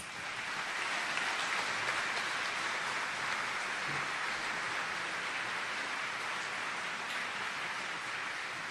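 Dense, sustained applause from a large audience at a high school graduation ceremony, a steady distant roar of many hands clapping with no voices over it.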